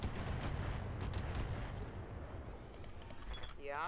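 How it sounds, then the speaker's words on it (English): Gunfire in the video game RogueTech, including a Gauss rifle shot, rumbles as a dense, continuous barrage of booming weapon fire and explosions. A voice talks faintly underneath. "now you hit with the Gauss rifle"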